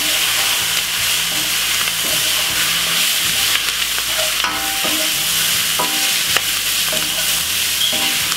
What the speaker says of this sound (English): So give it a stir.